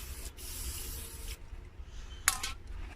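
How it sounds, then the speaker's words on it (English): Two bursts of hissing brake cleaner spray onto a Dodge Caravan's rear brake caliper, a longer one followed by a short blast, close by over a low background hum. "That was brake cleaner."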